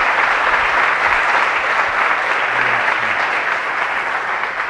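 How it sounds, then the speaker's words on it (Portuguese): A church congregation applauds steadily, a dense, sustained wash of clapping from many hands that holds level the whole time. "Uma salva de palmas ao Senhor pelo Seu propósito que nos chamou."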